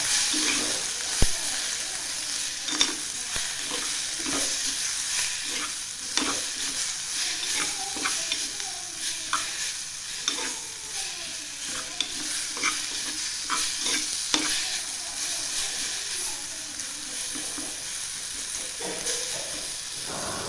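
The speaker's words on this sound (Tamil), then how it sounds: "வறுத்த மசாலா கொஞ்சமாக, எல்லாம் சேர்த்து நல்லா மிக்ஸ் பண்ணி விட்டேங்க" Roasted masala being stirred through Sri Lankan pork curry frying in a pan, with a steady sizzle and hiss and repeated scraping spoon strokes close by for the whole stretch, no talking.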